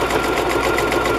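A sewing machine runs a straight stitch, a steady close whirring buzz that holds at an even level for about a second without pause.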